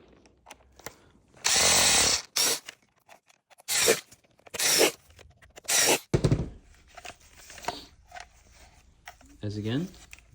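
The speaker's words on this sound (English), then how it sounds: "So get your T8 Torx and screw them in." T8 Torx screws are driven while servicing a Dyson V10 cordless vacuum, heard as several short loud bursts of a small power driver whirring, separated by quiet gaps and small clicks of handling. A person talks briefly near the end.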